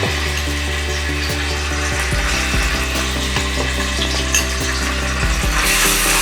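Ginger garlic paste fries in two to three tablespoons of hot oil, giving a steady loud sizzle with a row of sharp regular clicks and clatters repeating over it, and no voices.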